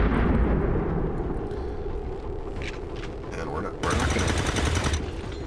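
Rapid bursts of automatic gunfire and heavy blasts in the XCOM 2 strategy game, dense and loud throughout with a louder burst near the end, mixed with a game soundtrack.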